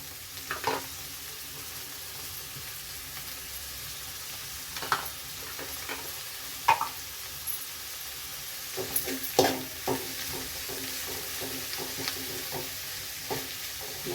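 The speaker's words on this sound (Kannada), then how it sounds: "ಈಗ ನಾವು ಅದಕ್ಕೆ ಮೆಂತ್ಯ ಸೊಪ್ಪು ಹಾಕೋಣ" Fenugreek leaves fry in a pan, giving a soft steady sizzle broken by intermittent scraping stirs of a spoon, fairly close and unaccompanied by talk.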